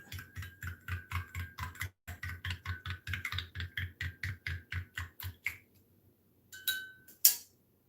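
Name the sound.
stirring silicone mold mixture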